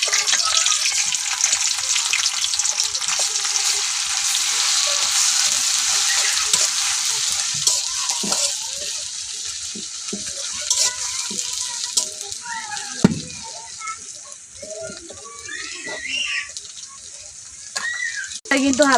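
Garlic sizzles in hot mustard oil alongside whole spices for a chicken curry, a continuous frying hiss that softens later, with stirring clatters and a few sharp utensil knocks near the end.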